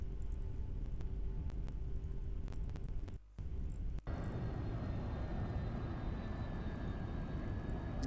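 A Phantom jet taxiing on an aircraft carrier deck in a flight game, a steady low engine rumble and drone that cuts out briefly near the middle before resuming at an even level, with no talk.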